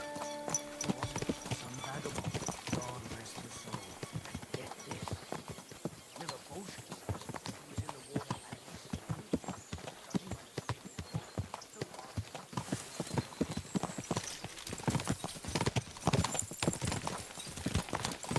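Horse hooves clip-clop steadily at a slow riding pace in Kingdom Come Deliverance 2, with a brief whinny, a continuous close rhythmic patter that carries on beneath intermittent talk for the whole stretch.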